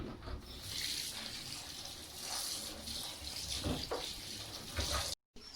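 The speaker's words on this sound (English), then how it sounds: "now I'm going to wash my fish." Water runs steadily from a kitchen tap while fish is washed for banga soup, a continuous close splashing flow with shifting surges and one brief dropout near the end.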